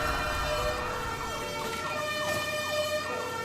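A fire engine siren sound effect wails in rising and falling sweeps, steady and moderately loud, with a faint traffic rumble underneath and no voices.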